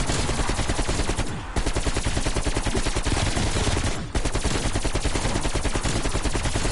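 An AK rifle in Call of Duty Cold War zombies fires on full auto in a loud, close, steady rattle of rapid shots, broken by two brief pauses, with no voices.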